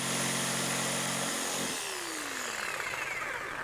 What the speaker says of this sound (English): Now we just have to make one cut right down through here, and then kind of finish this one off. We'll do that with a jigsaw.